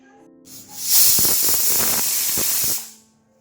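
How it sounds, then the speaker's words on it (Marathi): A pressure cooker whistle cooking dal khichdi lets out a loud, sustained hiss of steam for about two seconds, then cuts off sharply. "कुकरचं झाकण लावून घेते आणि 2 शिट्ट्या करून घेते"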